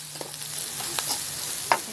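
Tortilla strips with tomato and vegetables fry in a pan for tortilla soup, giving a soft steady sizzle with a few scraping stirs of a utensil.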